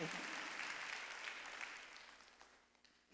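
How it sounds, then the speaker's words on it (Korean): A church congregation at a Sunday worship service claps together, a dense wash of applause that starts full and gradually thins and fades over a few seconds. "박수야"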